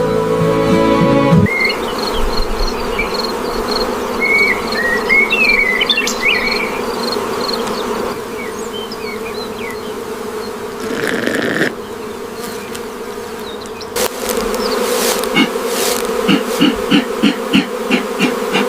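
Honey bees buzzing around hives on an isolated farm, a continuous droning hum with individual bees passing close by, over a steady bed of insect chirping and occasional knocks, with no voices.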